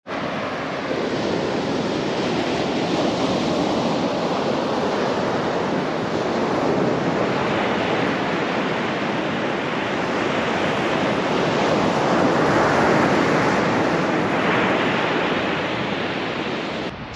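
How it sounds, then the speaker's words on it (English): Ocean waves at a wide, long Oxnard beach, heard from a parking spot as a continuous loud wash of surf and wind noise with gentle swells in intensity, no voices. "from your parking spot, you'll hear and can see the ocean"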